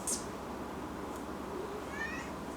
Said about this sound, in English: don't worry about the cat.